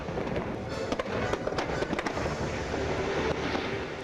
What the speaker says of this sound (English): there's a fireworks spectacular over the lagoon called Illuminations